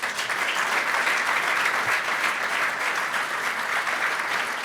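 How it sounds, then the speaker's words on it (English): A conference audience at a PyData talk on embeddings claps after the speakers finish, a close, even burst of many hands that holds steady for the whole few seconds without any voices. "Thank you to the speakers, and please an applause."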